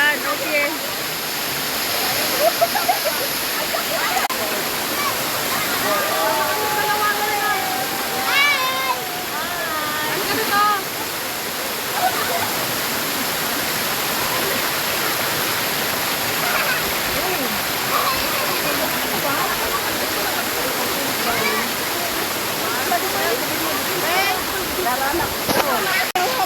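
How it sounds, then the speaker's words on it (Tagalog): Daranak Falls waterfall rushes with a steady broadband roar, close and continuous, while voices talk over the water throughout. "dito kami sa Daranac Falls"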